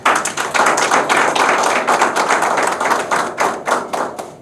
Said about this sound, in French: Je voulais que vous applaudissiez pour lui.